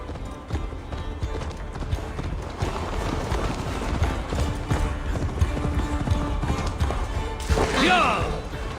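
Rapid hoofbeats of a galloping horse pound steadily throughout, with a brief whinny near the end and voices underneath, from the video game Assassin's Creed Valhalla.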